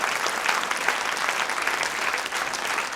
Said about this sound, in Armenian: բոլորս ծափերով մեր բոլոր սահմանապահ գյուղերի ժողովրդին ծափահարենք